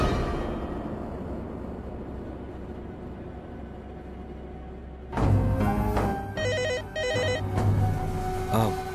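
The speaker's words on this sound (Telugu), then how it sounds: "వెళ్ళి ఫోన్ లిఫ్ట్ చేయండి" A telephone rings in a home in a Telugu TV serial scene, with electronic trilling bursts breaking in loudly after a stretch of low background rumble and repeating a few times.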